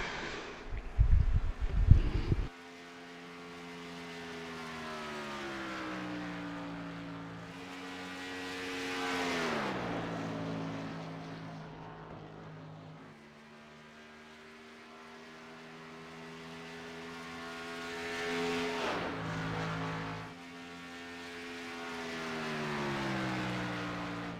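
Race cars in a Northwest Xfinity Series sim-racing event at Chicagoland, with engines droning steadily and rising and falling in pitch as a car laps the track. A loud burst comes at the start, then continuous engine tone sweeps past.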